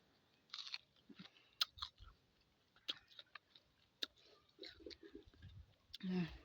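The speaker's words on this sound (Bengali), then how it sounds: "চুকা কামড়েঙ্গা খাইতেছি আমি" Close, crunchy bites and chewing of sour star fruit, irregular crisp clicks and smacks at low level, with bits of voice and a brief vocal sound near the end.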